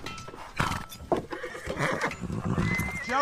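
A horse in a World War I war film whinnies loudly and shrilly near the end, with hoof clatter and stamping throughout, close and busy.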